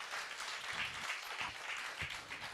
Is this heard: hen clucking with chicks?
no